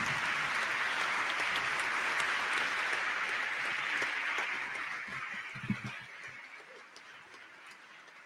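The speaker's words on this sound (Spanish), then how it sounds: "Brindémosles un merecido y caluroso aplauso." Audience applause at a university lecture hall, a dense, even clatter of many hands clapping that holds steady for several seconds and then tapers away to a few scattered claps.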